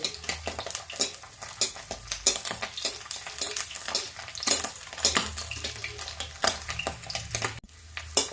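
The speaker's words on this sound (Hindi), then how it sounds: "यही मैं फ्राई भी करूँगी और इसका चिप्स भी बनाऊँगी।" Boiled potato chips sizzle steadily in oil in a pan while a utensil repeatedly scrapes and clinks against the metal, stirring in quick irregular strokes.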